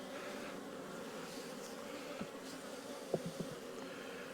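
Honey bees buzz during a spring hive inspection of a weak colony, a steady, faint droning hum of many bees with a few brief louder passes close by.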